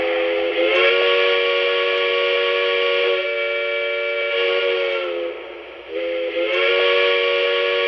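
A Lionel Strasberg Number 31 model train locomotive sounds its whistle as a steady multi-tone chord that holds almost continuously, with one brief dip and a restart near the end, loud and close with no voices.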